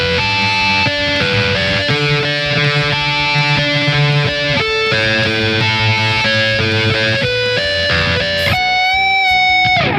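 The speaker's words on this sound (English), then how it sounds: "So now let's play through the entire chorus lead part slow." An electric guitar plays a chorus lead part at a slow practice tempo, distorted sustained notes moving step by step, loud and close, with a higher held line ringing out near the end.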